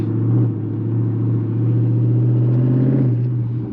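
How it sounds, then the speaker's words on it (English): A Chrysler 300C engine rumbles steadily while driving, a low, throaty drone heard from inside the car with slight rises in pitch as it pulls, with no talking over it. "Some sound clips of the car."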